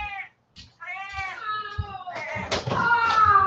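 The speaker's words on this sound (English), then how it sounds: "Let me let this cat out. He's freaking out." An agitated cat meows over and over, the cries loud, close, long and wailing, growing more insistent and running together toward the end.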